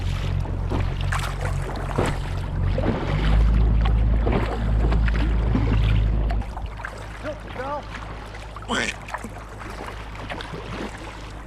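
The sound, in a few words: inflatable Sevylor kayak riding through waves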